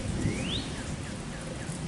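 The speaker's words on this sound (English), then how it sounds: "hopefully it'll stop raining" Steady rain falls outside a pavilion, a dense, even hiss of close drops with a few faint chirping calls drifting over it.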